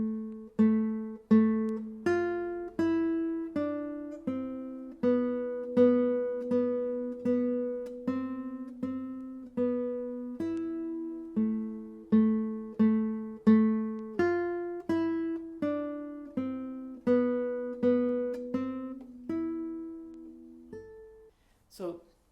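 The opening melody of Carcassi's Etude Op. 60 No. 7 is picked on a solo classical guitar, played without tremolo: a slow sequence of clear, evenly spaced single notes ringing close and alone.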